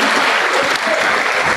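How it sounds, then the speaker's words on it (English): A hall audience at a university first-year orientation program applauds the VLTC volunteers, a loud, dense burst of clapping heard throughout. "So big round of applause for them."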